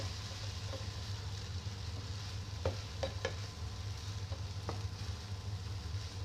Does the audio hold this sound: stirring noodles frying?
yes